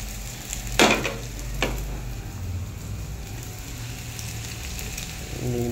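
Chow mein stir-fries in a hot pan with a continuous close sizzle, two sharp scraping or tossing bursts near the start, and a low hum underneath.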